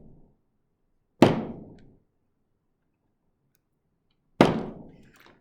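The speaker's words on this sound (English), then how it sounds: "You can hear me cut that with a bang." Plastic parts of an M3 Stuart light tank model kit snipped off the sprue, two loud, sharp cracking snaps a few seconds apart in an otherwise quiet room.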